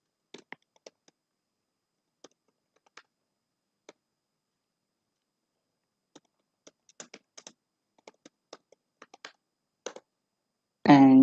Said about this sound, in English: I'm bad at typing.